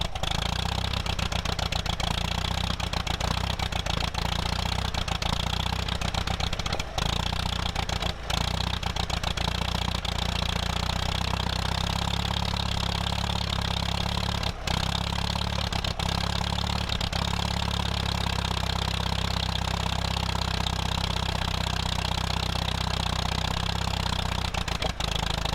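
A tractor engine idles steadily after a carburetor cleaning, a loud, continuous low rumble with a few brief dips, running alone without talk.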